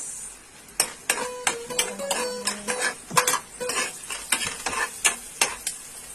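Garlic and onion sautéing in cooking oil, a spoon repeatedly clinking and scraping the pan over a light sizzle, the strokes coming in quick uneven bursts.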